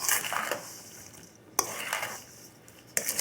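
Cherry pie filling is tossed and stirred in a bowl, with soft wet swishes and a couple of sharp spoon clinks against the side, close and quiet with no voices.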